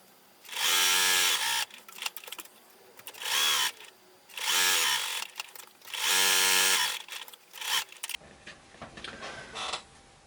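A sewing machine stitching quilt blocks in bursts of a few seconds each, loud and close, with short pauses between runs.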